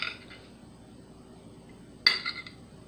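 A spoon clinks against a dish while moving topping around for a Chicago hot dog, one sharp close metallic clink followed by a few softer scraping taps over quiet background.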